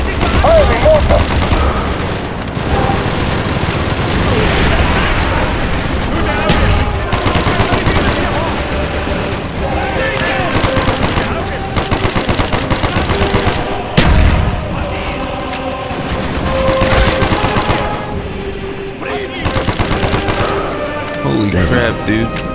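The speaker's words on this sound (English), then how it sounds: "Firing mortar!" Mortar fire and gunfire in the Call of Duty Black Ops campaign, a dense, loud, continuous battle din of rapid shots and booms, with shouted voices mixed in.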